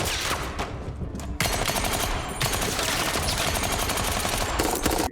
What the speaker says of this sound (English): he opened the conversation with some gunfire